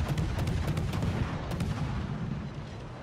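Heavy naval gunfire from World of Warships battleships, a Massachusetts engaging another around an island corner: a dense, continuous low rumble of booming salvos with sharp cracks near the start and middle, loud and steady throughout.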